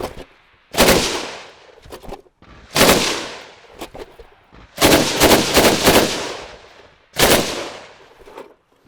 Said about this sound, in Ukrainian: Вивели на ціль, зробили постріл.